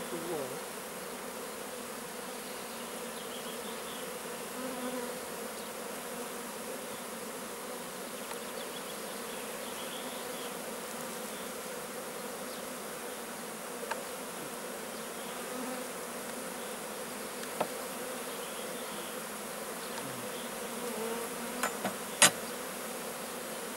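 Honey bees hum in a dense, steady buzz while they cap honey on a hive frame during a swarm transfer, heard close up and continuous, with a few faint knocks near the end.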